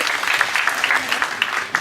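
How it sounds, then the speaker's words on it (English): Warm round of applause for Professor Walsh at a lecture, steady dense clapping from an audience filling the moment without pause. "Let's try to give you once again a warm round of applause"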